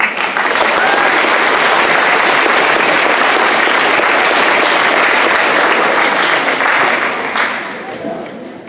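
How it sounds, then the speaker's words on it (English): At a high school homecoming coronation, a big crowd claps loudly and steadily for an introduced coach, with some voices mixed in, before the applause fades out near the end. "Round of applause for her"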